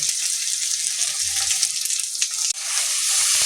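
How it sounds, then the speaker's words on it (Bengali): Steamed taro leaves go into a pan of prawns, onion and garlic frying over medium heat, giving a loud steady sizzle with brief stirring scrapes and a sudden dip as the leaves land. "আঁচটাকে মিডিয়ামে দিয়ে এখন এর মধ্যে দিয়ে দেব ভাপ দিয়ে রাখা কচু শাকগুলো।"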